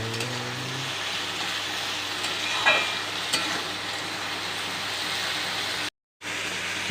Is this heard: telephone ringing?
no